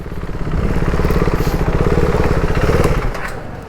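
A superbike engine at the MMRT race track runs at a steady, rough idle, loud and close for most of the span before easing slightly at the end.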